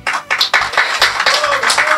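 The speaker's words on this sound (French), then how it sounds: "Vous pouvez applaudir, hein, allez-y." A small audience claps for a street magician's trick, a rhythmic run of distinct hand claps that rises and dips, with a voice talking over it.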